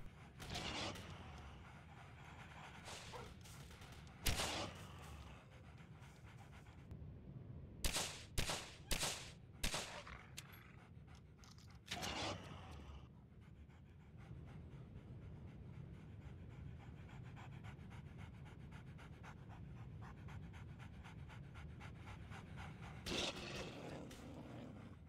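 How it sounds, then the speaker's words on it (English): Sharp gunshots crack in the online shooter game Anomaly Zone, a scattered few followed by a quick burst of four or five, with faint panting and low background noise between them. "Time to get some revenge on that dog."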